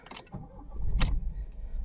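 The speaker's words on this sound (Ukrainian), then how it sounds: "Давайте спробуємо завести автомобіль." A 2017 Ford Focus with a 1.0-litre petrol engine cranks briefly, then catches and settles into a steady idle, heard close up with no talk.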